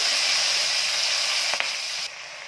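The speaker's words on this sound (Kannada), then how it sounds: "ಬಟರ್ ಮತ್ತು ತುಪ್ಪದಲ್ಲಿ ಇದು ಫ್ರೈ ಆಗೋವರೆಗೂ ಸ್ವಲ್ಪ ಹುರ್ಕೊಳ್ಳೋಣ" Spinach and chillies frying in butter and ghee in a pan, giving a steady close hiss and sizzle with a brief stirring scrape near the end.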